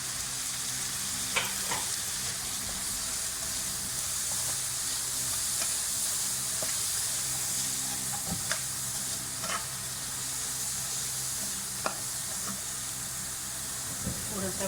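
Fried rice with capsicum and onion stir-fried in a pan over a raised flame, giving a steady close sizzle with occasional scraping taps of a spatula, a voice speaking faintly underneath.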